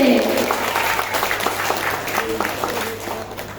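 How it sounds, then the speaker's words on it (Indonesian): Applause for class 7C at a school presentation event, a crowd of students clapping in a continuous wash, moderately loud and reverberant, with faint voices mixed in. "Kita beri tepuk tangan sekali lagi untuk kelas 7C."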